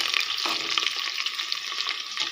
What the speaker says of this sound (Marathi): कांदा थोडासा परतला थोडासा लाल झाला